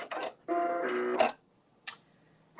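A Brother sewing machine's thread cutter working, with a short burst of mechanical whirring followed by brief clicks and snaps, close and fairly clear against a quiet room.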